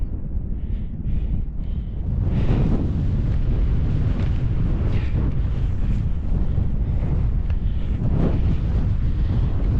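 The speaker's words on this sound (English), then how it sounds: "But there's wind up here," Strong wind on the exposed summit plateau of Kinder Scout buffets the microphone in loud, continuous gusts and rumbles, with no talking.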